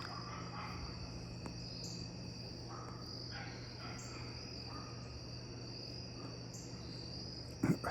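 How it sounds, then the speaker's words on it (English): Crickets chirp continuously outdoors at night, a dense high insect chorus with a few faint calls mixed in and a brief soft bump near the end. "You will, however, hear crickets and geese and dogs and frogs"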